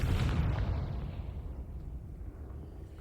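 A Confringo blasting curse from Hogwarts Legacy lands as a single deep explosion that booms at the start and rumbles away into fading debris over a few seconds.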